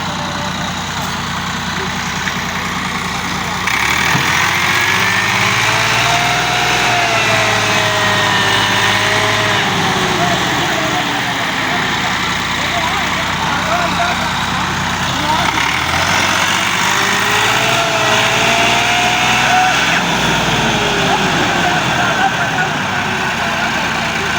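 A stuck tractor hauling a heavily loaded trailer up a climb roars loudly and continuously, its engine note rising and falling as it labours and revs, with people talking over it.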